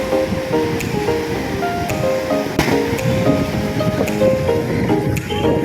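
Surf rolling in steadily at Snehatheeram beach on the Kerala coast, a continuous wash of sea waves and wind close by, with scattered tonal sounds and faint background voices over it.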